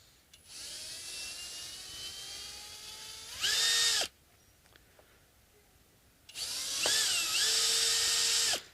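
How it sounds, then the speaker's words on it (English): A power drill backs screws out of an Epiphone Les Paul Special II guitar body, with two loud, steady whining runs separated by a short quiet pause and a softer buzz before the first. "So let's remove the screws."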